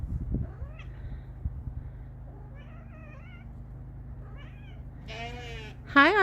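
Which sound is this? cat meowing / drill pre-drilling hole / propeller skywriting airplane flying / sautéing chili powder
cat meowing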